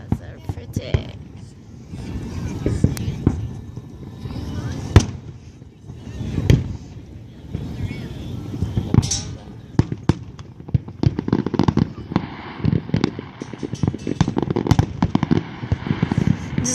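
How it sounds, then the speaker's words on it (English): A July 4th fireworks display bursts continuously, with repeated loud booms and crackling volleys in rapid, irregular succession, a dense barrage heard from a distance with people talking intermittently. "they're just like throwing a shit ton of a ton of like fireworks stuff and just fire them all"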